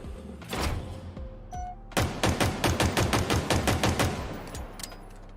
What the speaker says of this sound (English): It sounds like a pistol.